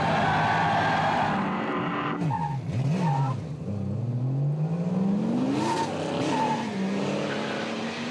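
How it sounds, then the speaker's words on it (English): Drift cars at Formula Drift 2005 in Houston, Tyler McQuarrie among them, skid through a run with loud sustained tire squeal that rises and falls over continuous engine roar. "Tyler McQuarrie coming in at speed, hitting the bumps."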